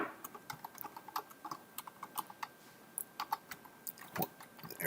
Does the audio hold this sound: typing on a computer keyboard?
yes